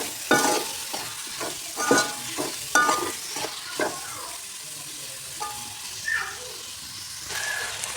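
Sliced onion with salt dropped into oil left from frying chicken for a Kerala-style biryani, sizzling hiss broken by repeated scraping stirs of a spatula at close range.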